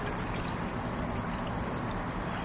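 Liquid plant nutrient poured into water in a hydroponic container for peppers, a steady close splashing pour running throughout without pause.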